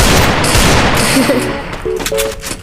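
Rapid bursts of automatic gunfire from a video game crackle densely at close range for the first couple of seconds, then thin out, with brief in-game tones and a voice underneath.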